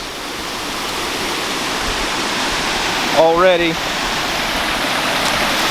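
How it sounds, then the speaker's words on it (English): Water spilling over the rim of a filling tub like a small waterfall, a steady broadband rush that holds for the whole stretch, with a brief whistle-like chirp in the middle and a single spoken word. "I do think there's a little more water flowing across"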